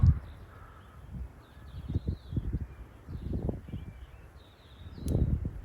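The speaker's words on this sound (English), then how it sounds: "Oh, look at the crow." A crow caws repeatedly near Roman ruins in Turkey, a series of harsh, moderately close calls in irregular rhythm, with rustling and a final louder call.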